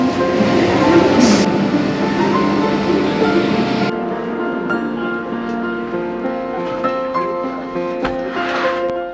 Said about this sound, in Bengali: এই যে আমাদের ট্রেন ঢোকাচ্ছে কিন্তু